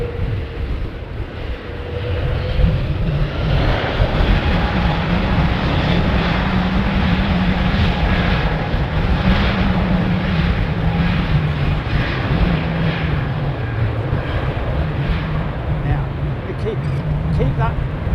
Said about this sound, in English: So when it takes off, here we go.